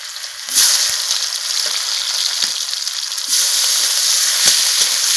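Chopped onion, cumin and tomato frying in a pan, a steady loud sizzle that surges brighter partway through, with soft knocks of stirring underneath.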